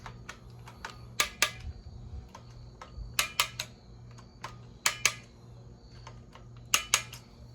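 Handguard screws being tightened on an AK rifle, a run of sharp metallic clicks and ticks in quick clusters, with short pauses between bursts over a faint steady hum.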